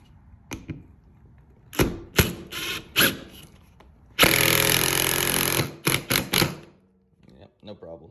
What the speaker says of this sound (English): All right, let's drive some fasteners real quick.